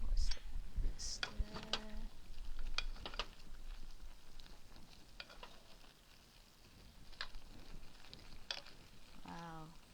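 Tofu and woodear mushrooms stir-fried in a clay pot, with scraping stirs and clinks over a low, steady sizzle at moderate loudness, with brief faint voice sounds.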